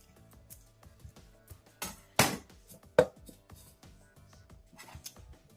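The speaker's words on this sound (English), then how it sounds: "I'm just going to chop it up and put it in my blender." A knife slicing through an unpeeled cucumber: a handful of sharp, close chopping strikes at an uneven pace, separated by quiet pauses, with faint small clicks in between.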